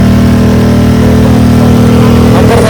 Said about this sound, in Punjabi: ਤੁਸੀਂ ਆਵਾਜ਼ ਚੈੱਕ ਕਰੋ ਮੋਟਰਸਾਈਕਲ ਦੀ